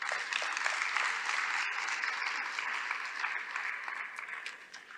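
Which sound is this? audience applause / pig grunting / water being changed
audience applause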